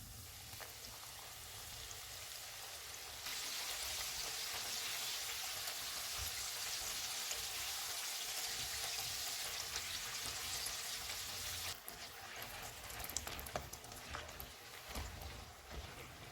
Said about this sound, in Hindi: ऑयल गर्म हो गया। चूल्हे को मीडियम लो कर देंगे और इसमें चिकन डाल देंगे।